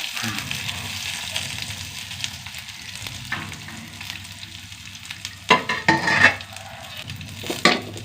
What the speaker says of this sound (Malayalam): നമുക്ക് തേങ്ങ ഒന്ന് വറുത്തെടുക്കാട്ടാണ്